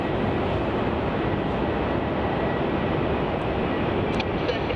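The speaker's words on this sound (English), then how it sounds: "Virgin Australia flight 308 arriving in from Brisbane, topping off its 2-hour flight" A Virgin Australia airliner, flight 308 from Brisbane, lands on runway 34 at Melbourne Airport. Its engines give a loud, steady broadband roar that stays close and constant throughout.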